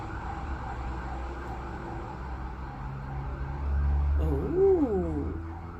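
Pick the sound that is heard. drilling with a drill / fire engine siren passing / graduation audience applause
fire engine siren passing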